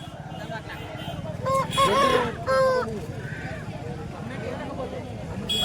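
Roosters and hens at a poultry market in Kothagudem, Bhadradri, give a loud close crow and scattered clucks, while people talk throughout.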